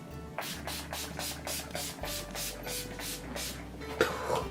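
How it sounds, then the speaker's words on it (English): Urban Decay All Nighter makeup setting spray is pumped onto a face in a rapid series of about a dozen short, close hissing spritzes, evenly spaced, with a brief breath near the end. "I like to finish it off with the Urban Decay All Nighter Makeup Setting Spray."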